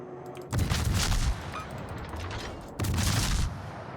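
Cruiser guns fire in the naval video game World of Warships, with two loud booming salvos about two seconds apart over a continuous rumbling battle background.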